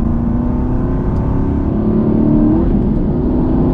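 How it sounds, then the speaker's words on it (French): The rough, gravelly V8 of an Aston Martin V8 Vantage with a manual gearbox drones loudly and steadily from inside the car, rising slightly in pitch as it revs. "c'est un V8 bien rocailleux"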